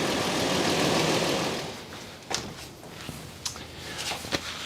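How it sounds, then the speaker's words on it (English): A 2006 Toyota engine idles just after an oil change, a steady broadband running hum that is loud at first, then settles lower with a few sharp ticks and clicks near the end. "the engine's running good"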